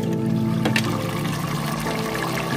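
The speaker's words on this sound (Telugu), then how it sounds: "బియ్యం ఇందులో వేసుకుందాము" Soaked basmati rice tipped into a pot with ghee and oil for mutton biryani, a steady close pouring rush over a low background hum, no talk.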